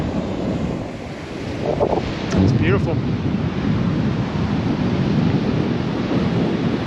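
Strong wind buffets the microphone as ocean waves surge and break along the rocky coast at Port Muck and the Giant's Causeway, a loud, constant roar, with a person speaking briefly over it.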